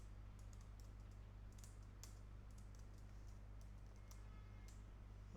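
Faint computer keyboard typing comes in quick light clicks over a steady low hum, with no talking.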